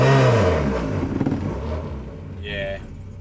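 A car engine revs hard in fifth gear with the handbrake up during a clutch slip test, a loud droning rise that settles into a steady hum, with a brief higher whine near the end.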